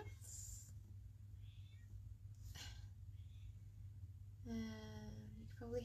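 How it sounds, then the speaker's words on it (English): A cat cries at a door with two or three short harmonic meows, the last one louder near the end, over a steady low background hum. "You can probably hear Honeybee crying at my door."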